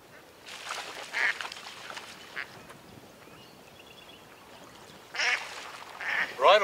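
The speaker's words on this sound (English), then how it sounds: "a lot of birds, water birds, can be found in here" Water birds on river islands along the Avon River at Northam quack in scattered bursts, a few calls early and a louder cluster near the end, over a soft outdoor background hiss.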